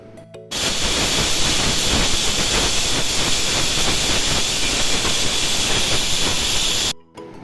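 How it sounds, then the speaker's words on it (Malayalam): A pressure cooker cooking green pea masala curry releases steam in a loud, sustained whistling hiss that starts abruptly and runs for several seconds before cutting off. "വെള്ളം ഒഴിച്ചു കൊടുക്കുക കുക്കറിൽ എന്നിട്ട് അടച്ചു വെച്ച് ഒരഞ്ചാറ് വിസിൽ വരുത്തുക"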